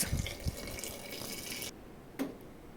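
Water poured over cut, salted potatoes in a pot gives a steady, close rushing splash for under two seconds. It stops abruptly, and then one faint drip follows.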